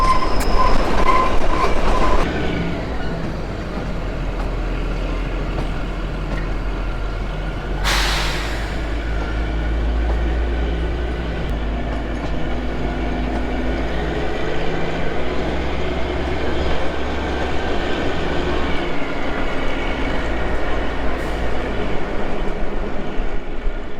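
Kalka–Shimla toy train (Shivalik Deluxe Express) running on the narrow mountain railway, a steady loud rumble of wagons and rail clatter throughout, with a brief burst of hiss and wheel noise partway through.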